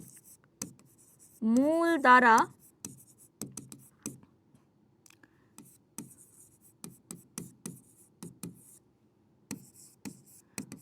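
Chalk or marker scratching across a classroom board, a run of short strokes and taps following a brief burst of speech, fairly close and distinct.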